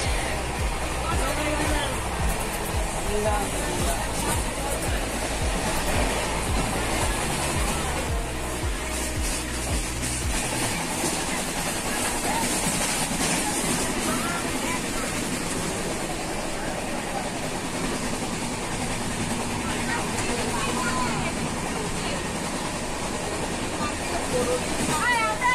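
A passenger train, the Jallianwala Bagh Express, heard from inside a carriage with a loud continuous rumble and rushing wheel noise, a deeper drone fading partway through, with people talking under it.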